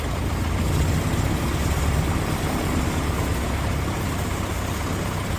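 A 1950s Piper TriPacer aircraft engine idles steadily during warm-up, a continuous loud rumbling drone with no pauses and no voices.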